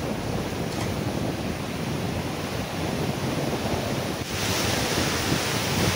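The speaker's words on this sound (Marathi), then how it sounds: "हाय टाईड हे किती जोरात चालू आहे ते आणि त्याचे लाटांचे प्रमाण तुम्हाला मी दाखवतच आहे" High-tide waves at the sea in Mumbai roar in a continuous, loud wash of surf, with wind buffeting the microphone throughout and a slight surge in intensity near the end.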